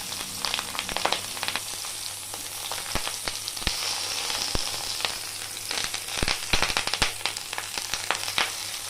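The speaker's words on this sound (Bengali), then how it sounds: "এই গরম হয়ে যাওয়া তেলের ওপর আমি দিয়ে দিচ্ছি এই পাতুরিগুলো।" Prawn paturi wrapped in banana leaf frying in hot oil in a kadai, a steady sizzle with frequent sharp pops and crackles, close and moderately quiet, with no talk over it.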